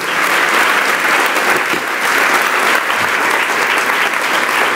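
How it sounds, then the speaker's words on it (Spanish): Sustained applause from a church congregation during a religious service, a dense, steady wash of clapping that stays loud and even for the whole stretch, with no speech over it. "Le damos un aplauso a Dios por la vida"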